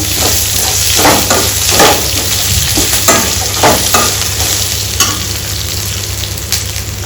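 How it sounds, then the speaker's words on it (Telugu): Ginger garlic paste fries in a pan for Telangana-style tomato dal, a loud steady sizzle with a low hum beneath and several quick spoon scrapes and stirs, no voices. "అల్లం ఎల్లిగడ్డ పేస్ట్ కూడా వేస్తున్నాను"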